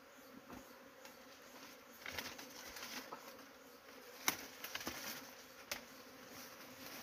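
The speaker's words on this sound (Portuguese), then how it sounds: "As abelhas estão atrás de fazer enxame no balde." Bees swarming around a bucket near a rock cavity outdoors, a soft continuous buzzing hum with scattered sharper clicks and knocks over a quiet background.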